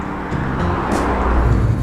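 A car drives along the road, heard from inside as a steady low engine and road rumble, loud and continuous throughout.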